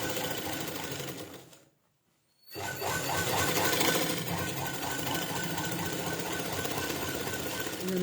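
A sewing machine stitches a round lined blouse with kaja stitching, running close and loud in a continuous whirring hum that stops briefly and then starts up again at a steady speed.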